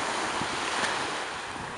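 Gentle surf on the Caribbean Sea laps the beach at the Riu Cancun hotel in Mexico, a continuous soft wash mixed with wind buffeting the microphone.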